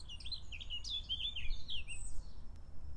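A blackcap sings outdoors in warm sunshine, a quick run of bright warbling notes in one sustained phrase at moderate distance over a low steady outdoor rumble.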